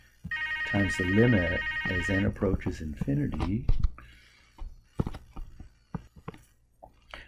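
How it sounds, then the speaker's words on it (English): A telephone rings in a lecture room with a sustained electronic trill lasting about two seconds, while a lecturer keeps talking over it and goes on speaking afterward. "Sorry about the phone there,"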